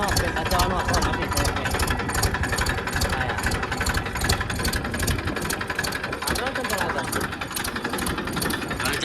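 A tractor engine runs steadily nearby with a rhythmic, pulsing chug that stays loud throughout, and voices are heard over it.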